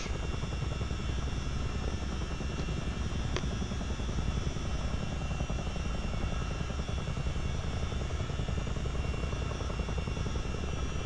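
Continuous heavy rotor drone of a CH-47D Chinook twin-rotor helicopter in Microsoft Flight Simulator, a dense steady engine and blade roar filling the whole stretch without speech.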